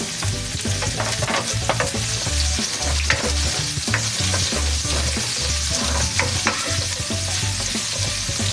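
Garlic and onion sauté in a hot pan, giving a loud, continuous sizzle with the repeated scrape and clatter of a spoon stirring against the pan, close up and with no voices.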